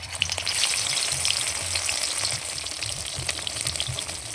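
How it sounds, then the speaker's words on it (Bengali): Cauliflower pieces frying in white oil in a kadai, a loud, dense sizzle with crackling pops that holds steady throughout, close up and with no voices. "এবার কড়াইতে সাদা তেল দিয়ে ভেজে"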